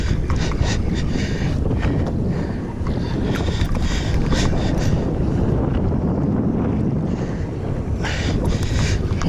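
Steady wind gusts buffet the microphone out on open water during a kayak fishing competition off Palm Beach, a constant low roar with faint splashing from the boat and no talking.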